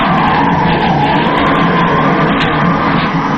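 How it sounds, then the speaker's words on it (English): Loud, steady roaring hurricane wind in an old-time radio drama, with a constant rushing howl and no pauses. "Not in this storm. Listen to that wind."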